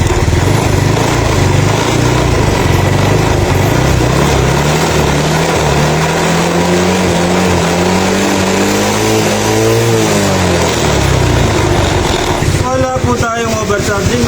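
Yamaha Mio Soulty scooter engine held loud and close, climbing from a steady idle into a rising rev that peaks and drops back, with a brief clattering near the end.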